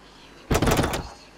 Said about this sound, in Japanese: そして頭上でのドアノブを必死に掴む音が響いた。